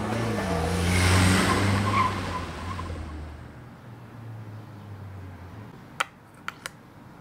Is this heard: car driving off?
yes